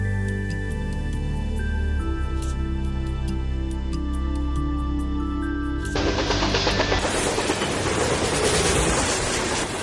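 A train runs on rails as a sound effect in an audio story, a loud steady rumble with rhythmic wheel clatter that swells into a harsher, noisier roar partway through.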